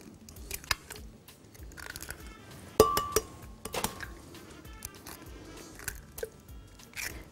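Eggs cracked into a bowl while mixing an orange chocolate cake batter, with sharp shell taps and clinks against the bowl among quieter kitchen handling sounds, close and fairly soft.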